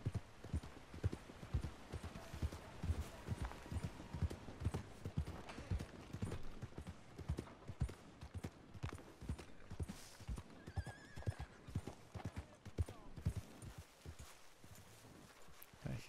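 Hooves clop in a steady, repeated rhythm, close and distinct, with a horse whinnying partway through and some talking mixed in, in the video game Red Dead Redemption 2.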